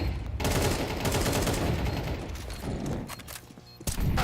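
Dense, continuous gunfire from a Counter-Strike retake, with overlapping rapid shots and explosive bursts filling the whole stretch, loud and busy throughout, briefly dropping near the end before another burst.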